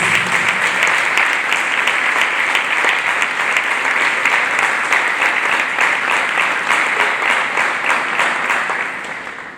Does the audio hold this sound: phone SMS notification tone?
no